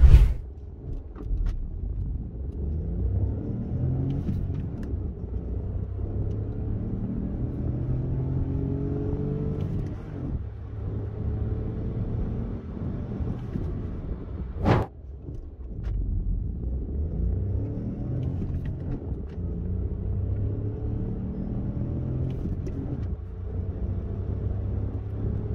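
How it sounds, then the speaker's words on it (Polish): Hyundai Bayon with a 1.0-litre three-cylinder petrol engine accelerating hard, rising engine rumble through successive gears with short dips at each shift, heard from inside the car with no talking. "Naprawdę ten silnik jest w miarę dynamiczny, także ma naprawdę bardzo fajne przyspieszenie także do pierwszej setki, co właśnie w tym momencie też zobaczycie."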